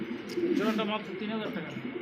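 A choco racer pigeon coos softly and repeatedly, close by, with other pigeon sounds and voices blending in from a busy pigeon market setting.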